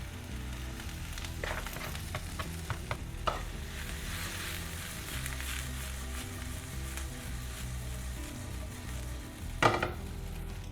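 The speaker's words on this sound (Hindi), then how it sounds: "हाई हीट में ही भूनना है हमने।" Vegetables and noodles stir-fried on high heat for an onion- and garlic-free veg Manchurian: constant sizzling under a cluster of clattering stirs and utensil taps early on, then a sharp metallic clank near the end, with no voices.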